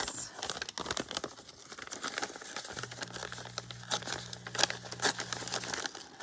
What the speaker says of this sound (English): I'm gonna tear the side.